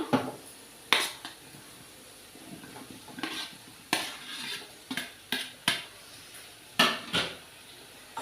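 Boiled raw banana pieces go into a pan of tamarind-based curry and get stirred. Sharp metal spoon clanks and scrapes against the pan come at irregular intervals over a faint, quiet simmer, with no talking.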